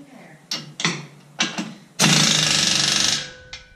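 A pneumatic impact gun with 22 mm sockets tightening fasteners on a Harbor Freight 2-ton engine hoist support arm, heard as several short bursts and then one loud, sustained hammering run of about a second, close up.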